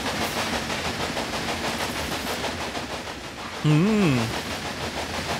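Steady rumbling rail noise of a train running on rails in the Railway Empire video game, continuous throughout, with a short spoken word over it midway.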